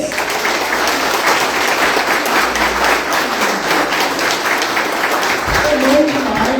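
A church congregation at a special Mother's Day service applauds the mothers with sustained, lively clapping while a voice keeps talking over the noise.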